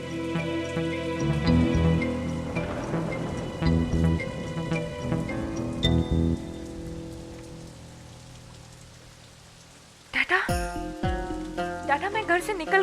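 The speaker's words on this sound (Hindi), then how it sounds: "बहुत तेज बारिश हो रही है" Heavy rain falls steadily in a dramatic scene, its hiss running continuously beneath loud music and tonal sounds for the whole stretch, with a sharp surge of sound near the end.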